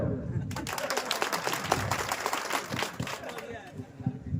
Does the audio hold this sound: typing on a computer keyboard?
no